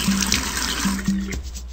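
Magic water pours in a Nick Jr. browser game, a loud tap-like rushing stream with short tonal game beeps over it, brief and without talk.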